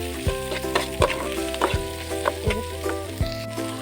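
Prawns frying in oil with a continuous close sizzle, punctuated by regular spoon clanks and scrapes against the pan roughly every half second to second.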